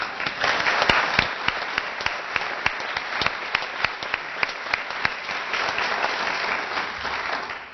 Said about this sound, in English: So please, another round of applause for them.